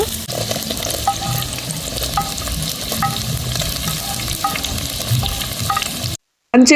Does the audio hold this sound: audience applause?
no